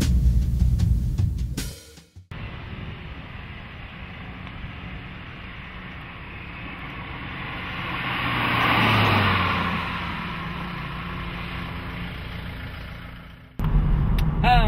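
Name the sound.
BMW Z4 2.5 litre 204 hp engine accelerating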